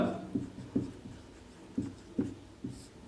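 Chalk or marker taps and scratches on a classroom board as a square's area is written out during a maths lesson, a series of short, fairly faint strokes at irregular intervals.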